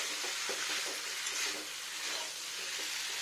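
Masala sautéing in a pan for a paneer and capsicum curry, with a steady close sizzle and repeated scraping stirs of a spoon throughout, no talking.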